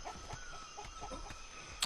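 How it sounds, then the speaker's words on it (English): A female chicken in the survival game Atlas gives a short run of soft, close clucks in a steady rhythm, with a brief sharper note at the end. "sitting here taming this female chicken"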